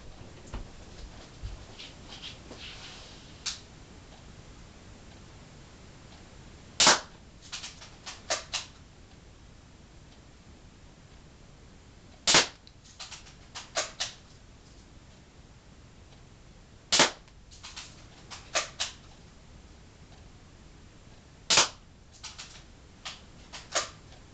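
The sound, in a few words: Daisy Grizzly 840c air rifle firing indoors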